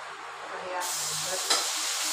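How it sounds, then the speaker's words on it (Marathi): Mutton curry with ginger and coriander frying in a pan, a steady close sizzle and hiss that swells partway through as it is stirred, with one brief sharp scrape of a spoon. "चला आता मटणाची भाजी झनाटच बनवून लावली तुम्हाला"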